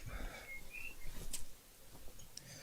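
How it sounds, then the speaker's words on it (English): Faint scattered bird chirps and short whistled calls over quiet outdoor ambience, a few distinct tweets spaced irregularly. "You can hear the birds."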